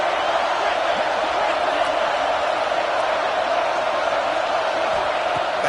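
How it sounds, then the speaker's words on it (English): Steady roar of a packed stadium crowd in a college football video game, a constant broad wash of cheering noise at even loudness throughout, with no clear speech. "listen to this crowd noise. This stadium is vibrating."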